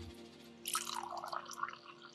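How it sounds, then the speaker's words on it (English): Tea poured into a glass, a soft, close liquid trickle that begins about a third of the way in and runs steadily with small splashy bursts to the end over a faint background hum. "Take a listen. Pour it in the glass."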